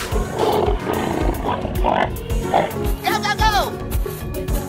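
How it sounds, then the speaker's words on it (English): A lion roars several times in short, loud bursts over steady background game music, with a rising and falling sweep near the end. "Lion."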